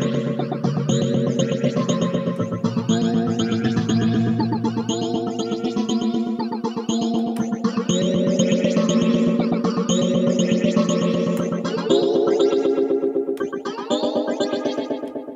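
Dense, sustained synthesizer patch from the Virsyn CUBE Synth iPad app, layered with echo and chorus effects, a thick rhythmic pulsing texture that holds steady and loud throughout without talk.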